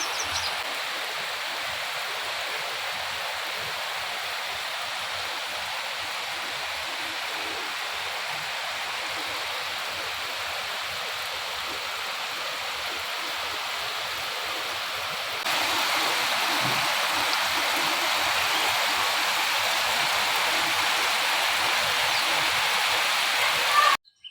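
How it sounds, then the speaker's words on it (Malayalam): Steady heavy rain hisses without a break, a dense wash of noise that grows a little louder partway through, with no voices. "നല്ലൊരു മഴ പെയ്യുന്നുണ്ട്"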